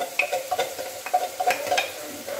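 Diced tomatoes fry in hot oil as a spoon stirs them, a close crackling sizzle with repeated scraping strokes against the pan.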